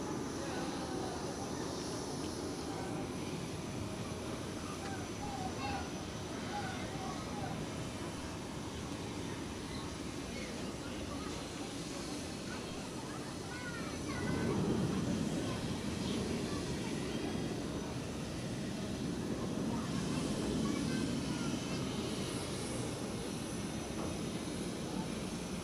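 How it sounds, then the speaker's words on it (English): An Edelweiss airliner departing Zurich Airport, its engines a steady, broad roar that swells midway and stays loud to the end, with a voice talking faintly beneath. "So Edelweiss still departing to Cancun."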